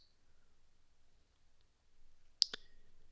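Computer mouse clicks in a quiet room, a sharp double click close to the microphone with faint hum around it and no talk.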